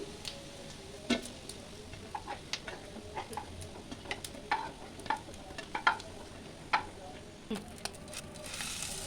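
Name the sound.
fish roe fritters frying in mustard oil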